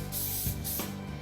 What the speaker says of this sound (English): now I'm going to spray it with my non-stick butter spray